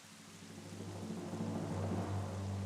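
Steady, dense rain falls in Zelda: Twilight Princess on the Japanese GameCube version, a continuous hiss with a low rumbling undertone that swells slightly louder toward the end, with no voices.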